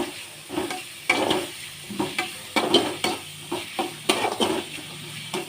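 Onions sizzling in hot oil for egg rice, with repeated stirring scrapes and clatters of a spoon against the pan in an uneven rhythm over a steady frying hiss, close and fairly loud.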